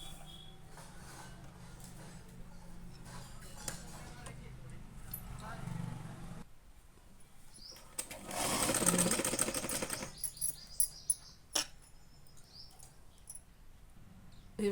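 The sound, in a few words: sewing machine stitching pleats on a frock frill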